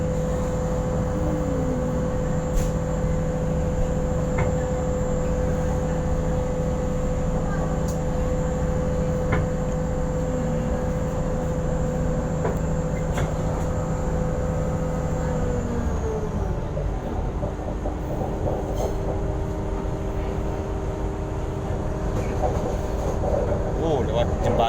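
Continuous interior rumble aboard the KA Jenggala train from Sidoarjo to Gresik, a droning hum whose tone drops and shifts partway through, steady and loud with no speech.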